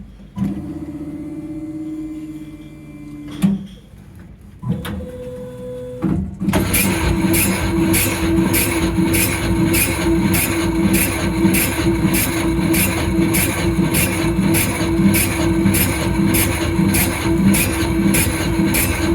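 A bread slicing machine at Lidl slices a ciabatta loaf: a few brief mechanical clunks and starts, then loud, continuous rhythmic chopping with a regular repeating pulse from the blade mechanism.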